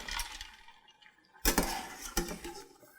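Zucchini pressed into a bowl of ice water, with faint clinks of ice first, then two sharp clattering knocks and splashes against the bowl, quiet and close.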